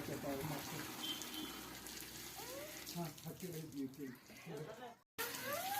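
Running tap water splashes steadily beneath a conversation, with voices talking over the continuous wash of water throughout.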